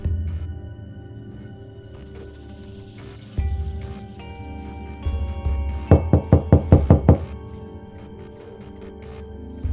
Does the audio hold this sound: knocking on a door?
yes